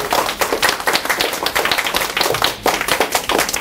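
A room of people at a Nu Skin public lecture claps together loudly and close up, a quick, energetic burst of hand claps with a few uneven surges and no talking.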